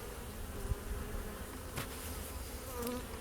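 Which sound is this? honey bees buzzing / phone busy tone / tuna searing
honey bees buzzing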